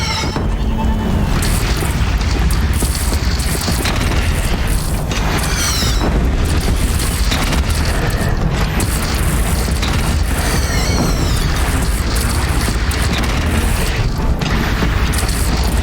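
Cannon fire in the video game Horizon Zero Dawn booms amid dense, continuous battle noise with mechanical clanks and crashes, while voices speak over the loud mix.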